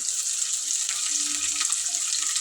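Onions, carrot and green chillies fry in a pan with a loud, continuous, close-up sizzle that stays steady and dense throughout, with faint bubbling underneath and no voices.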